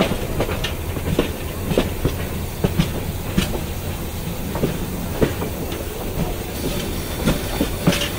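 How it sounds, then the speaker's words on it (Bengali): Tista Express, an intercity train, rolling into Kamalapur railway station in Dhaka at night, its wheels giving a steady near clickety-clack of rhythmic rail joint knocks over a continuous rumble and hiss. "আন্তনগর তিস্তা এক্সপ্রেস ঢাকার কমলাপুর রেলওয়ে স্টেশনে প্রবেশ করছে রাত 9টা 38 মিনিটে।"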